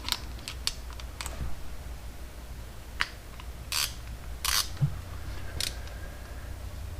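A torque wrench tightens the case half bolts on a 1984 Honda Shadow 500 engine, giving sparse sharp ratcheting clicks and metallic ticks, up close in a quiet workshop.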